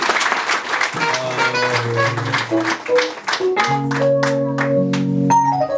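A church congregation claps rhythmically and loudly along with music and singing during a celebration installing a pastor.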